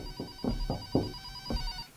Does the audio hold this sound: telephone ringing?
yes